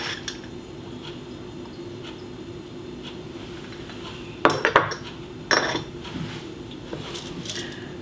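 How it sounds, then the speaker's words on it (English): A spoon clinks and scrapes against a guacamole bowl as two spoonfuls of Plush Organics moringa powder go in, giving a few sharp clatters in the middle of an otherwise quiet kitchen. "So I'm going to put in 2 spoons of my Plush Organics moringa powder."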